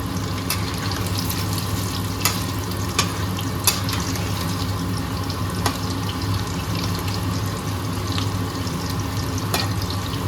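Chicken pieces for pakora frying in a pan and being stirred, a steady broad sizzle with occasional sharp clicks and scrapes of the spoon, close and continuous throughout with no talking.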